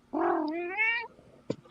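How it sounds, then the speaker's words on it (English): A single cat gives one drawn-out, rising meow lasting about a second, close and clear, followed by a brief faint click. "Listen, there's a kitty."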